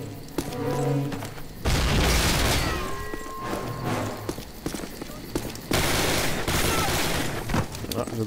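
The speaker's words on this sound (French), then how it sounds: "Grenade!" Gunfire and a grenade explosion in the Call of Duty video game: a heavy blast hits suddenly and is followed by dense rattling shots. Another loud burst comes near the end, and voices are faintly mixed in.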